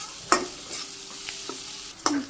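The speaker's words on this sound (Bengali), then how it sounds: "এই ডালটা আমি সুন্দর করে ভাজি করে নিচ্ছি, লাল লাল করে" Lentils (dal) frying in a pan, with a spoon scraping and stirring in a few sharp strokes over a soft, steady sizzle, close and clear.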